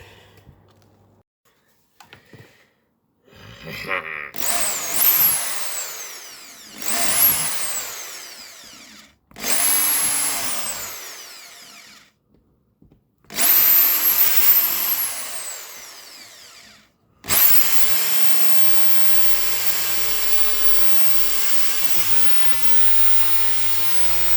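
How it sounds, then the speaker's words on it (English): A power drill whines in several separate bursts of a few seconds each with pauses between, followed by a long continuous run of drilling into a model railway baseboard. "You've got to kind of drill a few holes to allow that pin to move"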